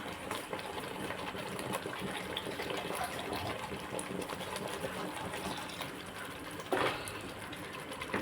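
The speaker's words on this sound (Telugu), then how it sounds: "కొన్ని నీళ్ళు వేస్తాను" Water pours steadily into a pot of fish curry with a rushing, gurgling wash, continuous for several seconds, with a small clatter near the end and no talk.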